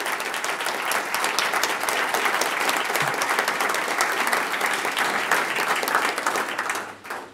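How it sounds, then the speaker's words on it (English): Sustained applause from a meetup audience in São Paulo, dense and steady clapping filling the room for about seven seconds before tapering off at the end. "We're going to give you a Brazilian applause."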